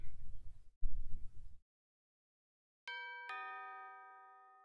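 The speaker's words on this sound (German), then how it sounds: "Did you hear the doorbell?" Doorbell chiming twice with a bright two-tone ding-dong in the game Coromon, ringing out alone after a brief rumbling sound and silence, the second tone lingering and fading slowly.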